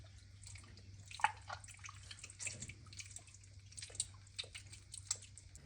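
Water rinsing horse tripe and intestines while they are cleaned, heard as faint, scattered drips and splashes over a low steady hum.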